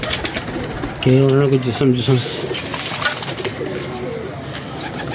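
Pigeons that have just flown in coo in a clear, close run of throaty notes over a second or so, against steady outdoor noise, with someone talking through and after it.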